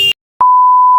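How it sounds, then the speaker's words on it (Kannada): A single steady censor beep, loud and clean, runs through most of the second after a brief burst of sound, masking slang spoken during a night ride near MG Road in Bangalore. "ಸ್ಲ್ಯಾಂಗ್ ಯೂಸ್ ಮಾಡ್ಬಿಟ್ಟೆ, ಬೀಪ್ ಮಾಡ್ಬಿಡಿ."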